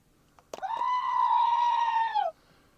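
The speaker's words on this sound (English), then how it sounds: "The goat hopes you had a good Christmas." A goat gives a single long, steady bleat close by, lasting nearly two seconds after a brief rustle, with quiet surroundings before and after.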